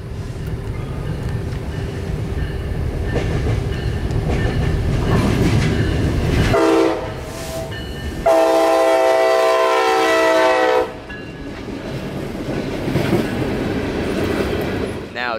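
A CSX freight train led by a new ST70AH locomotive rumbles past near Tampa, carrying diammonium phosphate. A steady, loud roll of wheels is broken by two long horn blasts, and the train rolls on afterward.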